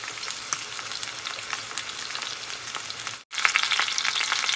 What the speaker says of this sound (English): I'm gonna let this chicken brown for about 8 minutes